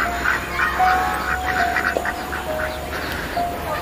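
Muscovy ducks kept in pens at a garden farm near the Mimosa pass in Da Lat, Vietnam, give a steady run of repeated, fairly loud quacks and calls over faint background noise, with no talking.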